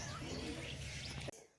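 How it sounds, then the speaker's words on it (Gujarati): Mynas and sparrows call near a family home, with faint chirps mixed into a steady background wash that cuts off abruptly near the end. "કાબા અને ચકલીઓ."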